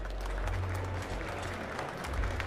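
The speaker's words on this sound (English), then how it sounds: "a round of applause for our top three finishers here tonight in Barcelona" A crowd at the GT World Series 2023 World Finals in Barcelona applauds the top three finishers, with steady dense clapping throughout and a low rumble underneath.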